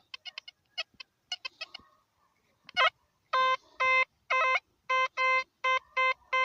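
Metal detector sounding over a coin buried in the ground: a run of loud, repeated tonal beeps, about eight steady pulses in a regular rhythm, with some fainter scattered chirps and clicks before them.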